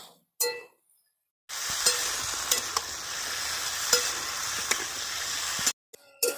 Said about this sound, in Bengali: দেখুন আলুটা দিয়ে ভালো করে নেড়ে নেব,